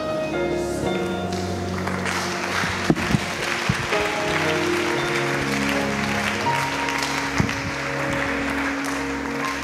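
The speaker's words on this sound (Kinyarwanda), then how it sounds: "Reka duhe Imana amashyi menshi cyane ku bw'intsinzi ya Yesu." A church congregation claps at length after a call to applaud God, a dense steady wash of hands with a few sharper claps standing out and faint musical tones underneath.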